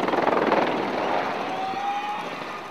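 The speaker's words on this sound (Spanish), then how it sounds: "El helicóptero comenzó a dar vueltas y se pegó contra una parte de arena" A helicopter at an air base spins out of control just before crashing, its rotor throbbing loudly in fast pulsing beats with a steady whining tone over the roar.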